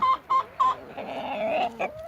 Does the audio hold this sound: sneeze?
no